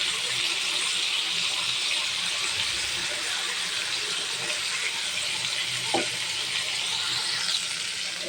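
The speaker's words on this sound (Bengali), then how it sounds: "এখন আমি ওই কড়াতে পেঁয়াজের কুচি দিয়েছি, এখন আমি ভালো করে ভেজে নিব" Chopped onions fry in oil in a kadai, giving a steady hiss and sizzle throughout with a faint clink of utensils near the middle, close and continuous.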